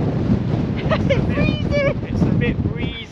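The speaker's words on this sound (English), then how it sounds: "Wow, it's very windy on here and I'm struggling to stand up." Strong wind buffets the microphone on a seaside pier, a loud, constant rumbling roar with waves beneath it, while a person talks over the gusts.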